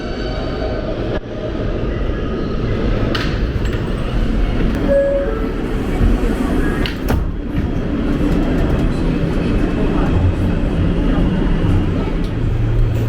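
A New York subway G train underway, heard from on board as a steady, loud rumble of wheels and car noise with occasional clanks and squeals throughout.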